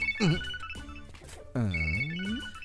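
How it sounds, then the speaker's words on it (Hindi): A mobile phone ringtone plays loud and close: a bright, warbling melodic tone that rises and falls in two bursts, with a brief pause between them. "कहीं तो सुना हुआ है ये रिंगटोन मैंने।"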